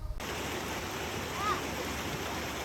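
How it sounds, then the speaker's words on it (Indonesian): A small mountain stream on Gunung Papandayan in Garut, West Java, flows steadily nearby, a soft continuous rushing trickle with no clear speech over it. "Ini ketemu sungai kecil,"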